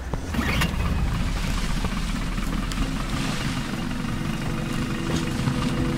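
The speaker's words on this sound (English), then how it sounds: "Start the engine." A vehicle engine in Battlefield Bad Company 2 runs with a steady, loud, rumbling idle throughout, with faint mechanical rattles layered over the low drone.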